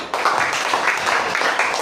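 A class claps for a student group after its presentation, a dense and loud burst of mixed hand claps from a room full of people that starts abruptly and continues steadily.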